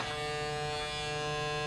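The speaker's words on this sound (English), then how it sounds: "They kind of remind me of the sound of a shaver." Gamma+ Ergo electric hair clippers run with a steady, even motor buzz and hum, close and constant throughout, alone with no voices.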